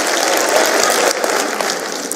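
Loud, dense applause from a large audience at a university address, a continuous close roar of clapping that eases slightly partway through.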